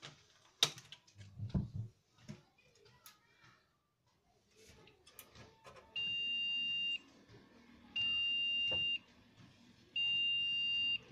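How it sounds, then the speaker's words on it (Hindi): A desktop PC that will not start after the power is switched on gives three long, even electronic beeps, spaced about a second apart, following some handling noise and clicks. "If you can hear the beep sound coming."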